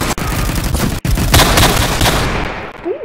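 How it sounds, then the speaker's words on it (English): Rapid semi-automatic pistol fire in a video game: a loud, dense run of sharp shots packed closely together, with two brief gaps, before the firing fades out. "I don't think I've ever used this pistol before."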